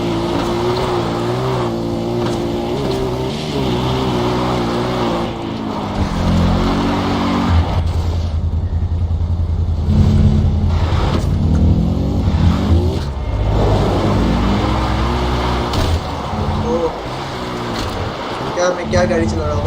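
A car driven in Far Cry 4 roars with a loud, rumbling engine that revs up and down across the stretch, with someone talking over it.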